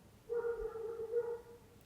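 A dog outside the house gives a short run of barks and whimpering yelps, faint and somewhat distant, with no talk over it.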